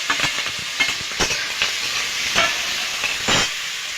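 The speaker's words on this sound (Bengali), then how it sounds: "আমি মাছটা নাড়াচাড়া করে ভেজে নেব।" Fish frying in hot oil in a wok while being stirred, a constant sizzle broken by repeated scraping strokes and sharper crackling bursts, close and without speech.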